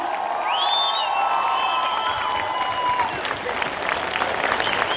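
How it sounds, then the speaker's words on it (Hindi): A large audience at a Modicare success-story event in Vadodara applauds and cheers loudly for a homemaker, dense clapping with whoops and shouts rising over it for several seconds. "खड़े होकर अपनी जगह पर सुरेखा मैडम के लिए जबरदस्त तालियां बजा सकते हैं हम लोग?"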